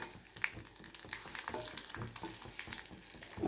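Garlic sizzling and frying in a pan of oil for a coriander-coconut chutney, a busy crackling sizzle with small pops and occasional stirring scrapes, close and continuous with no talk.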